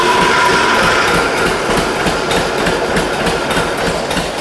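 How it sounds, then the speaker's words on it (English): A John Deere two-cylinder tractor runs loud and close after a duplex carburetor rebuild, a steady rhythmic mechanical clatter with continuous knocking beats and no voices. "Our tractor runs really nice."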